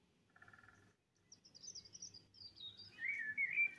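Two birds sing in duet, bright whistled and chirping phrases that alternate and overlap, faint at first and louder toward the end over a quiet background.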